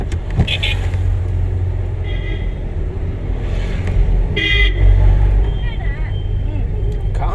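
A car passes in road traffic during a driving lesson, its engine rumbling close and swelling midway, with short horn toots and people talking over it.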